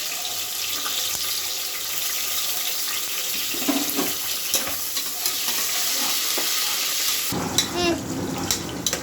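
Onions and green chillies frying in oil in a pan for tomato bath, with steady close sizzling, stirring scrapes throughout and a brief burst of running water near the end.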